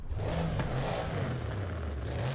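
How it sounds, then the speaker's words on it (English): An Audi RS6's engine revs in the racing game Forza Horizon 5, a loud, close low growl that rises and falls in pitch continuously through the short stretch. "I feel like this has the same engine sound as the RS7"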